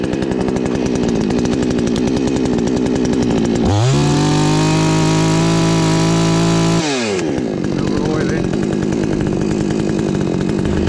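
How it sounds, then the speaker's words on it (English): A budget Chinese-made chainsaw cuts through a large fallen ash tree outdoors, running loud and close with a rough idle before it revs into a sustained high-pitched cutting whine and then drops back to idle. "I got this chainsaw off of eBay"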